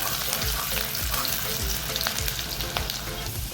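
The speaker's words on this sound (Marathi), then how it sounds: "लसूण टाकूया हिरवी मिरची टाकूया हलकंसं परतवून घेऊया" Garlic and green chillies sizzling in hot oil in a pan, a loud, dense, continuous frying crackle with some stirring scrapes, heard close up with no talk.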